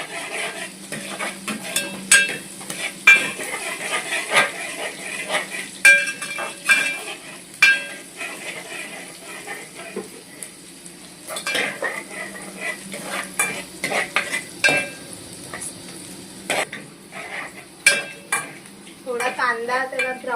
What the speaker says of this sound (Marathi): कांदा त्याला ब्राऊन होईपर्यंत आपण त्याला मिक्स करत राहायचं